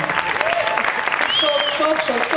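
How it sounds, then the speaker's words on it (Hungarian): Audience applause at a wine competition award ceremony, a brief burst of clapping mixed with a speaking voice and some background crowd sound. "Még egyszer jár neki a taps"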